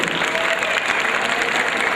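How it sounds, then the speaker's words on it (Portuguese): Lecture audience applauding a birthday girl, a loud, sustained wash of many hands clapping together with a faint crowd murmur underneath. "Uma salva de palmas para ela que faz aniversário hoje."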